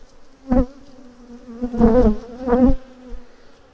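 Honey bees buzzing around an opened beehive during a honey harvest, a steady close drone with three louder swells as bees fly past near the microphone.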